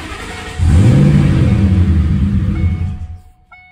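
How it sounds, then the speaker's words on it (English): A 1997 Ford SVT Cobra V8 cranks briefly, then fires and roars loudly up close, revving with a deep rumble for a couple of seconds before dropping away. "I just want to see if it's going to crank and fire"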